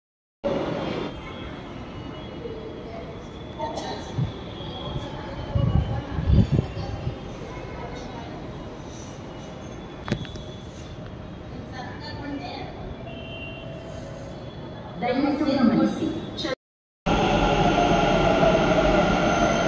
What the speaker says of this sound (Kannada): ಮೆಟ್ರೋ ಟ್ರೈನ್ ಬಂತು.